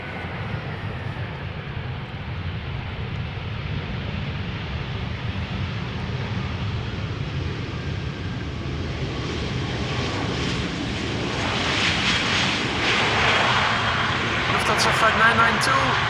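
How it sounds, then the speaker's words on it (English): A Lufthansa Airbus A320 arriving from Frankfurt lands at Amsterdam Schiphol, its engine roar building gradually and growing louder toward the end, with a voice speaking over it. "Lufthansa flight 992, Airbus A320 arriving from Frankfurt"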